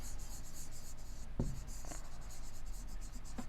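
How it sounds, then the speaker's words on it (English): Writing the names of quadrilaterals on a board for a maths lesson, a steady scratchy stroke sound with a few sharper taps over constant background hiss. "Let me write their names."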